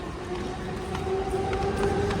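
Steady low rumble of a train rolling along, with a faint tonal hum over the continuous rattling noise.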